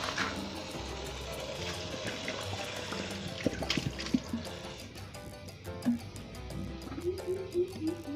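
Liquid pours into a squeeze bottle while betta fish are being bred, a watery trickle and gurgle with bubbling toward the end, close and moderately quiet.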